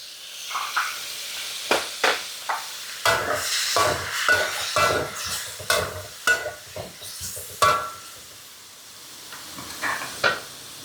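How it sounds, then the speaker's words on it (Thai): Chili and pork stir-fried with green-cap seasoning sauce: a spatula scrapes and tosses the food in a pan in repeated irregular strokes over a steady sizzle, close by, with no talking. "แล้วก็ใส่พริกลงไปผัดมีซอสฝาเขียวลงไปเลยค่ะ"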